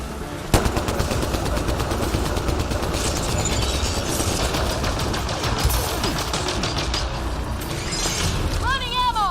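Rapid, sustained automatic gunfire in the video game Mass Effect: Andromeda rattles steadily throughout, loud and close, with electronic game effects and talk mixed in.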